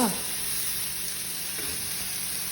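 A pan of food fries toward brown with a steady, close sizzle and hiss that holds at an even level for the whole stretch, alone with no talking.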